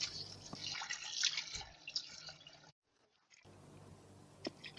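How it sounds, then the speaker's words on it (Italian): Water sloshing and splashing as wild and garden vegetables are swished and rinsed in a basin, with a brief pause before the sloshing resumes. "Aggiungiamo l'acqua e laviamo la verdura."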